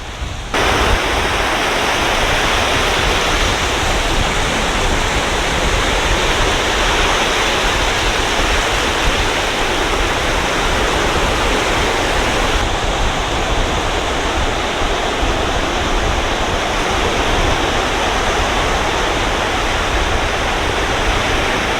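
Sea waves at Bakkhali beach make a loud, continuous roar of surf, broad and unbroken across the whole stretch, with no voices over it.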